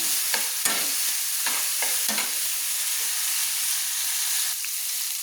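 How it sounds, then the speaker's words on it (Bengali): Spice masala fries with a loud, bright sizzle in a pan for a shrimp and bottle gourd curry, with several sharp scraping stirs in the first half, then a steady hiss alone. "মশলাটা যতক্ষণ না একটা সুন্দর তেল ছাড়ছে বা মশলাটা যতক্ষণ না তেল ছাড়ছে ততক্ষণ আমি নেড়ে নেব।"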